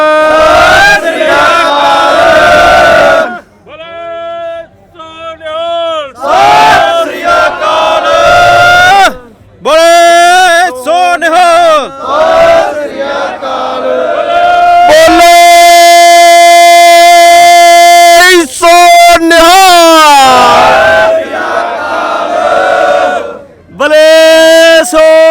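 A large crowd of Sikhs at a nagar kirtan procession in Battipaglia, Italy, shouting jaikara battle cries in loud, repeated swelling waves, with a leading voice calling between the collective roars.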